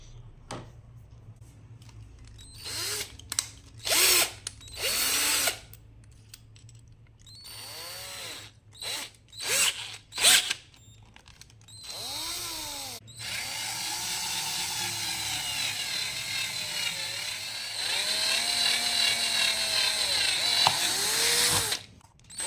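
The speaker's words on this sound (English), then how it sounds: "Need to drill these holes." A power drill whirs in several short bursts, then runs in longer steady stretches as it bores through material, close by with quiet gaps between.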